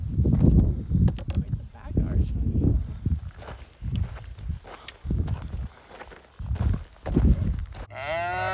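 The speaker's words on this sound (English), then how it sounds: "This little baby cow, we found her alone probably" A lone baby cow on a cactus-lined Arizona desert trail moos several times in close, loud bursts, with people talking nearby between the calls.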